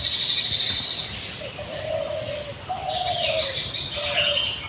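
Two doves coo back and forth on either side during the morning, their soft low calls repeating over a steady bed of insect buzz and other distant birdsong, with no talking.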